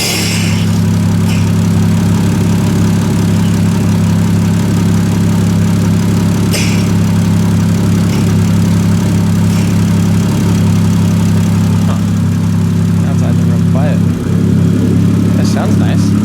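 A Toyota 2JZ engine fitted with a single turbo in a Nissan 240SX idles steadily and low, a loud continuous drone throughout with a brief disturbance near the end; people talk over it.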